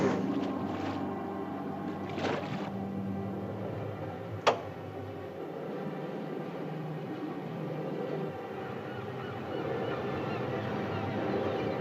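A ship's engine runs slowly at low speed while the vessel heads down a bay in the 1961 film Gorgo, a steady low drone with a single sharp click partway through.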